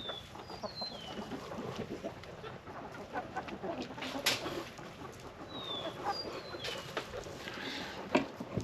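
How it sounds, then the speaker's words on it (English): Faint clucking from a flock of black Australorp chickens outdoors, scattered calls rising here and there over a low background hum. "I do have chickens, lots of them"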